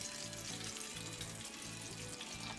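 Kentucky-style fried chicken pieces sizzle steadily in a pan of hot oil, a dense continuous crackle with a low rhythmic bubbling throb underneath, close and constant.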